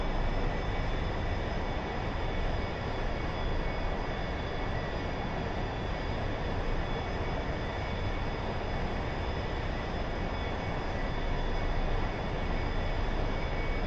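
A steady jet engine roar from an A-4E Skyhawk in a flight simulator during an approach with a little throttle added, a constant, dense whine that holds unchanged and alone throughout.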